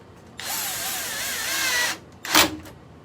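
A power drill drives screws into a door while door knobs are being fitted: one sustained whirring run of about a second and a half with shifting pitch, then a short, sharper burst after a pause, close and loud.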